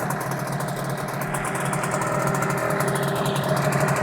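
Steady idling of a HANGKAI 6.0 outboard motor: an even, moderately quiet mechanical drone with light vibration, holding constant throughout without any voices.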